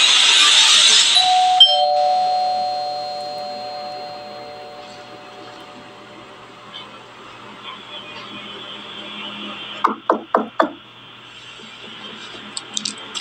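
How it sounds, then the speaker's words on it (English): A doorbell rings with a quick burst of several bright chimes after a long quiet stretch of low ambient hum, with a faint tone trailing earlier. "the doorbell rang."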